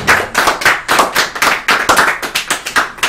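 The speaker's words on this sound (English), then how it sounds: "Do we clap? We should clap." A small audience at a Summer Games Done Quick speedrun event claps in a sparse, rhythmic pattern, with distinct individual claps close by and fairly loud.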